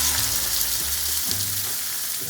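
Pork chops frying in oil heated just below smoking point in a pan on the stove, a loud, steady close sizzle that continues without break.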